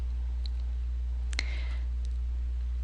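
A single mouse click on the Import button in phpMyAdmin, one sharp tick in a quiet room over a steady low electrical hum.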